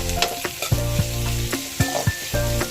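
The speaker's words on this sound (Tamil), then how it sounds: "வெங்காயம் நல்லா வதக்கிட்டோம்." Onions sautéed with a pinch of salt for a green gram sambar, a steady sizzle in the pan broken by repeated clanking stirs of a spoon, close and loud with no voices.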